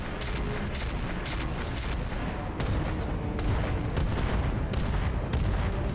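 Mortar fire in the mech strategy game BattleTech, a rapid series of heavy booming blasts and thuds layered over a continuous rumbling roar, loud and dense throughout with no talking.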